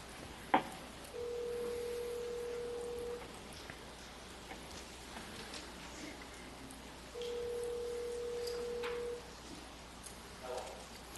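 Two long, steady telephone line tones, each about two seconds, sound faintly over a quiet room hum as a public assembly meeting switches to phone callers, with small clicks between.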